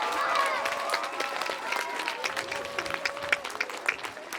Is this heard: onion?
no